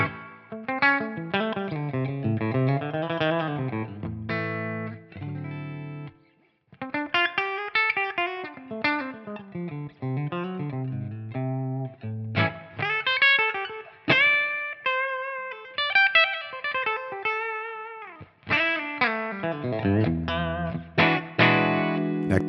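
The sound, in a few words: electric guitar, Suhr Classic T single coil, through Tonex amp model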